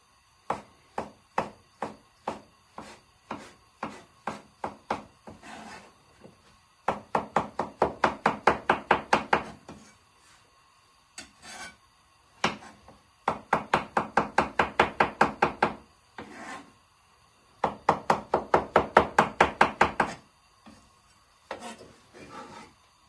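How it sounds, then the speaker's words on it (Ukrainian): A knife chops rapidly against a cutting board, slicing vegetables into half-rings, in quick rhythmic bursts, with short pauses between runs of crisp, close taps. "півкільцями нарізаємо"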